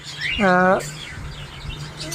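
A short, bright chirping call from a caged pet lovebird rings out once near the start, followed by quieter background noise.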